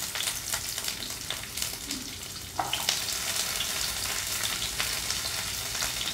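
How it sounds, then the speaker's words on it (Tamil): Chopped small onions sautéing in hot oil in a pan for a Chettinad-style crab masala, a steady close sizzle with a sharper burst as they hit the oil partway through, stirring clicks throughout. "இப்போ வெட்டி வச்சிருந்த சின்ன வெங்காயத்தை போட்டுக்கிறோம்."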